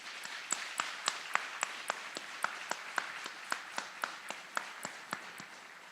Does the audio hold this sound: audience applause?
yes